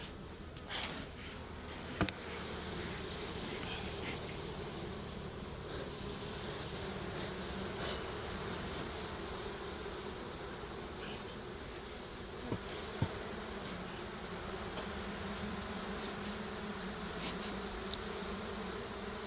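Wild Asian cavity-nesting honey bees buzz in a steady, dense drone that holds for the whole stretch, with a few faint clicks and knocks now and then and no voices.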